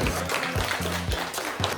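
Applause breaks out for a prize winner at a Rubik's cube competition awards ceremony in Lviv. A continuous patter of clapping sits over a low, pulsing tonal pattern that repeats in short bursts.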